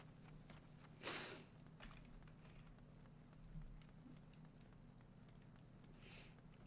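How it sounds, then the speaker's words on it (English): Two short, faint sniffles by a person, one near the start and another near the end, separated by quiet. "I'm gonna sniffle."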